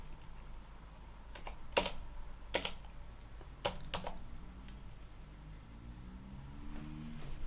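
A handful of sharp, spaced-out keystrokes on a computer keyboard as a Linux terminal command is typed, each click distinct against a low steady room hum.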